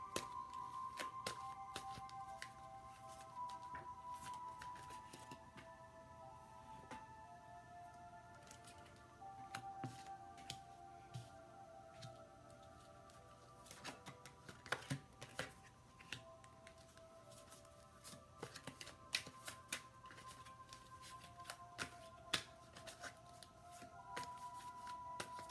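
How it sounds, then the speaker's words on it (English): Tarot cards shuffled steadily by hand at close range, a continuous soft papery riffling with frequent sharp flicks and snaps scattered throughout, no talking over it. "I shuffle for a little while"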